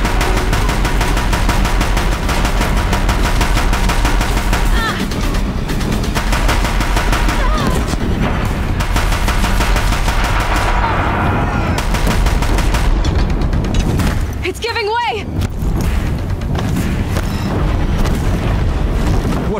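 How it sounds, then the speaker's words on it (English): Deathbringer war machines firing in Horizon Zero Dawn: dense, continuous bursts of heavy automatic gunfire and booming blasts, loud and relentless throughout, with a brief sharper explosive burst partway through and no voices over it. "If the Deathbringers keep firing, this bridge will go."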